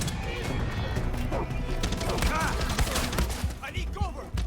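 Chaotic Far Cry 6 firefight with bursts of gunfire and crashing impacts filling the scene, dense and loud throughout, with a person talking over the shots.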